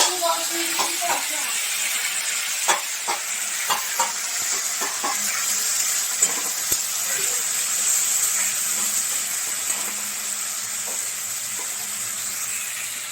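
Water is poured into a hot pan of rice, setting off a steady loud sizzle and hiss with scattered scraping clicks from stirring throughout.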